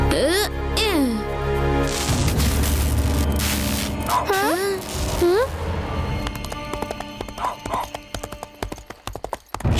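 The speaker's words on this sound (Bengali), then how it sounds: "হঠাৎ এই ঘোড়ার পায়ের আওয়াজ কোথা থেকে আসছে?" Horse hooves clopping in a steady rhythm, with a horse whinnying and voices speaking over the hoofbeats.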